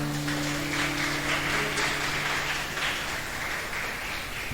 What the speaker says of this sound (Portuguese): Você pode dar um aplauso a Jesus?